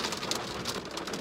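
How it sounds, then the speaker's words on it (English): Heavy rain pouring down during a thunderstorm outside a converted school bus, a steady dense hiss of drops on surfaces, close and even throughout. "it started to pour"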